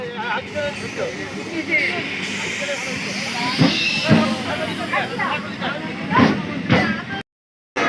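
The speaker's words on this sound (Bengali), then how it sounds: "7:35-এর ট্রেনও চলে এসেছে" A Namkhana–Sealdah local train pulls into Uklerhat station in the morning, a broad rumbling hiss of the approaching carriages with clanks and thumps, while people talk nearby.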